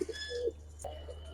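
Giribaz high-flyer pigeons coo in low, throaty calls, one drawn out at the start and another after a short pause, quiet and nearby over a constant hum.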